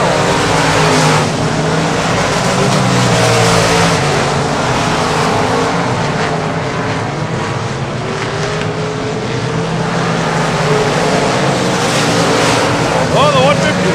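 Race car roaring around the dirt track at Texana Raceway Park during a season championship event, a loud, sustained engine drone that rises and falls as it works the throttle, with an announcer talking over it.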